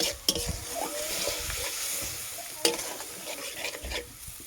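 Tomato paste fries with mustard in a pan, giving a soft, even sizzle. A spoon stirs it, and two sharp clinks of the utensil against the pan stand out. No one talks.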